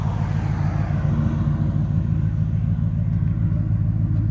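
A 1996 Ford Mustang Cobra with a 4.6L V8, no catalytic converters and Flowmaster 40 Series mufflers idles up close with a deep, steady, loud rumble that holds throughout, with no talking.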